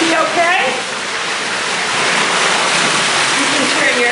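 Water runs steadily from a bathtub reservoir, a loud continuous rushing wash with no pauses throughout.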